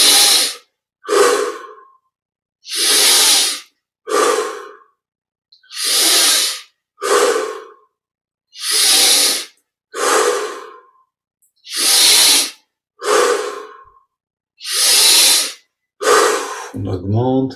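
Deep, slow breathing during meditation, about a dozen long loud breaths close to the microphone, alternating inhales and exhales in an even rhythm separated by brief silences.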